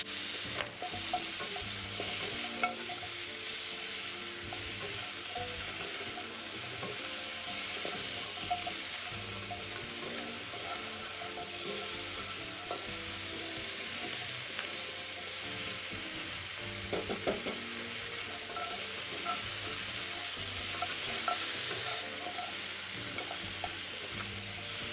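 Pork trotters and mushrooms are stir-fried in a wok for Hokkien simmered trotters, giving a steady sizzle with repeated scraping stirs throughout.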